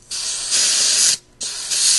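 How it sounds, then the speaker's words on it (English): Pressurized gas from a canister hissing and spraying out while an airsoft gas magazine is filled at a bad angle, two close bursts of loud hiss with a short gap between them. "you're going to have gas squirting out all over the place and freezing up here"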